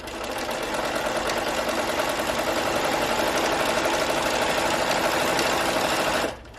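Sewing machine stitching a fabric ruffle for a farmhouse-style pillow: a steady, rapid mechanical whir with fine rhythmic clatter, close and continuous for about six seconds before stopping abruptly.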